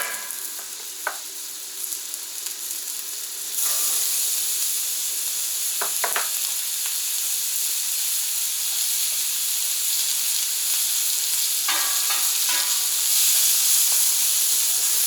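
Onions sizzle loudly on a Camp Chef griddle beside beef fat and butter, a dense steady hiss that swells after a few seconds, with occasional scrapes and clinks of a spatula and no talking.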